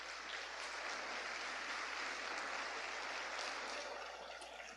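A church congregation clapping together, a broad continuous roar of many hands heard at a distance, steady throughout and tapering slightly at the close, with a low hum beneath.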